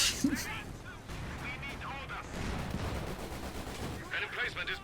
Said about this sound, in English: Oh, what a shot by the Panzer IV.